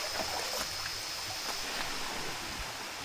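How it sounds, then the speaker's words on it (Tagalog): A stream of water flows steadily and continuously nearby on a hidden trail near Puerto Galera, with a bright rushing hiss and no voices. "Yun yung naririnig nating tubig."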